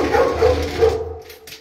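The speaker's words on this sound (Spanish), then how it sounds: "¿Ese va a ser un pedo cuando los perros ladren?" A dog barks and whimpers in a short, loud, close burst that quickly fades into fainter noise.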